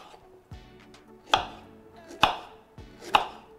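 Ginger sliced with a knife on a cutting board while preparing a holiday cocktail syrup: four crisp chops, three loud, evenly spaced strokes after a softer first one, close by with no talk.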